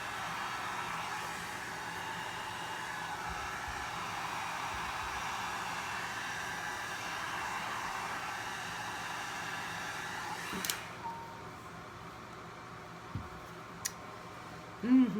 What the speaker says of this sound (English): Get it with the dryer a second.